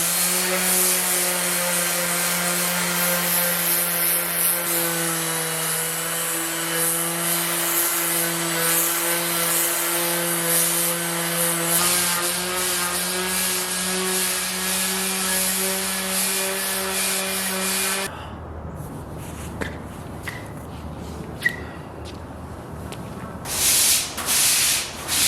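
A power grinder works over a concrete garage floor with a steady, loud, tonal whine and rough scraping that runs continuously, then cuts off to quieter handling noise and a few bumps near the end.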